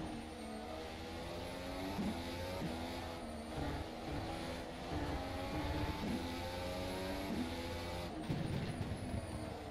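A Formula SimRacing 2018 open-wheel race car engine in rFactor 2 at Spa-Francorchamps, a steady high-revving whine with rising harmonic sweeps as gears shift, continuous and fairly quiet with no voices.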